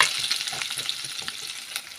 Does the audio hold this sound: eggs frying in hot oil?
yes